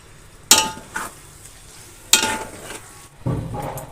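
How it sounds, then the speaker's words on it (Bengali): Yogurt and biryani-spice marinated chicken tipped into a pan of frying spices, giving a few sharp bursts of sizzle and scraping stirs close by, with short pauses between them and no voices. "এবার চিকেনটা এতে দিয়ে দেবো।"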